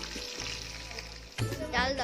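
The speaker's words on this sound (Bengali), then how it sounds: "সকালে যে মাছগুলো কিনেছিলাম তো সেইগুলোই ভাজা হচ্ছে এখানে দুপুরে খাওয়ার জন্য।" Fish sizzling in hot oil in a home kitchen in Puri, a steady close crackle with people talking over it and a louder burst of spitting near the end.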